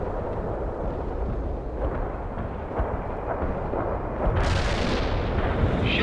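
Artillery fire support in the video game World in Conflict comes through as deep, rumbling booms over a continuous low roar, with a sharper, brighter burst near the end.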